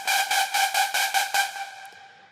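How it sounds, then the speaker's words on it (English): A dubstep synth bass preset, Ray Blaster, built from a sine and a saw wave through distortion, pulses in about eight gritty, buzzing throbs before fading into a decaying tail. "It's like a sine and a saw fed into a distortion shaper"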